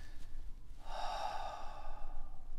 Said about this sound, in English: I breathe it out.